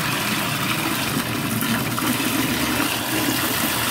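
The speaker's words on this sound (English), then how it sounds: "Let's turn the water on for a brief minute." Water gushes steadily from a bath tap into a tub, a loud, continuous broadband rush that stays constant throughout with no voices.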